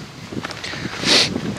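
Gusty wind buffets the microphone at the Kipphorn lookout in Saxon Switzerland's Elbe Sandstone Mountains under a clouding sky. A short, close rush swells and fades with no speech.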